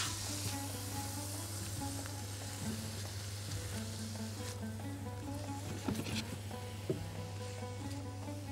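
Food sizzles steadily in a hot frying pan while it is stirred, with a constant low hum underneath and a couple of sharper scrapes and knocks near the end.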